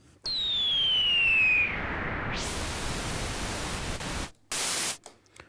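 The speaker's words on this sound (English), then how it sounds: "or we have pink noise." A 1973 Moog Model D Minimoog synthesizer plays a descending whistling tone, then a broad rushing noise swells in, cuts out briefly and returns in a short loud burst before fading, with no speech.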